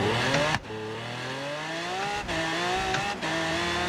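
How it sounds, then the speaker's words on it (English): Lamborghini engine in the video game Forza Horizon 3, revving up through the gears with three sharp shifts, each gear climbing steadily in pitch, loud and close with no talk. "This Lamborghini definitely goes a hella fast, so... Seven gears."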